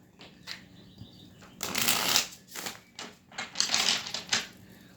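Tarot cards shuffled up close in crisp riffling bursts, two longer flurries separated by short taps and pauses, with no talking.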